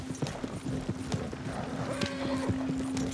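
A horse following the player in Red Dead Redemption 2, its hooves clopping in a steady, even rhythm close by under a constant low tone, with no one speaking.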